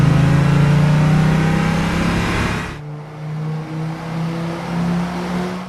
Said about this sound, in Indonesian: datanglah Jae-chol dengan menggunakan mobil merah yang berjenis Maserati Gran Turismo